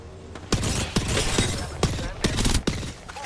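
Gunfire in Apex Legends: a loud, dense barrage with sharp individual shot cracks punching through, several distinct close reports in quick succession over continuous battle noise.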